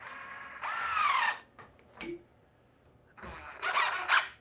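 A power drill drives a construction screw to hold up insulation in a fire-resistant garage build. Two close, loud whirring bursts come with a rising squeal between them, separated by a brief quiet pause.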